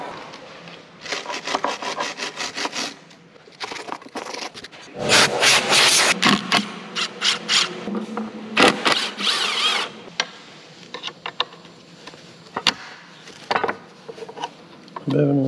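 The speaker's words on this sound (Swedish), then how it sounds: "Alltså nu är det bara in och börja skruva." Screwing and fastening work while building a machine shed from 40-foot shipping containers, irregular bursts of rasping, scraping and ratcheting tool noise, close by, with pauses between.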